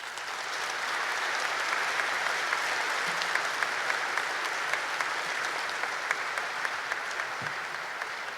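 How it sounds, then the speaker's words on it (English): Steady applause from a large audience at the 2024 Directors Guild of America awards ceremony, dense continuous clapping that holds at an even level throughout with no voices rising above it. "Please join us in a final round of applause"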